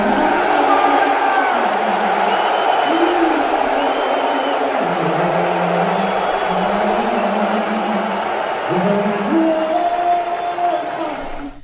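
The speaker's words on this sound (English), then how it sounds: "They show him on the screen and people start booing." A large arena crowd at an NBA Finals game roars in a sustained, dense wall of low booing and shouting, loud and continuous throughout with no pauses.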